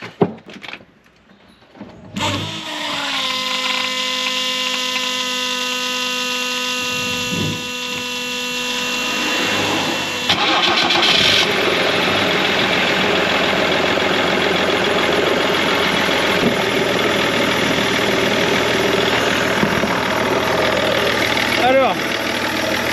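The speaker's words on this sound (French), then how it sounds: "je vais démarrer la bagnole, on va voir si ça fuit" A BMW 530d E39 diesel cranks briefly and catches after a new diesel pump is fitted, then settles into a steady, close idle that carries on at length with faint shuffling and a door-like knock.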